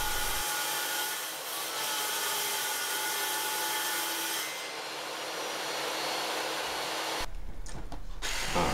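A table saw rips through an LVP flooring board, a steady loud whine with broadband cutting noise lasting most of the clip, then a brief stop and restart of the blade near the end, with no talking.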